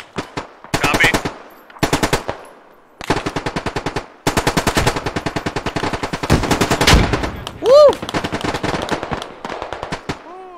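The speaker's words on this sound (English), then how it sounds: "So we're on bipod, get some shots off here." Bipod-mounted machine gun firing in the video game Squad, loud close bursts of rapid automatic fire separated by short pauses, with a brief tonal beep near the end.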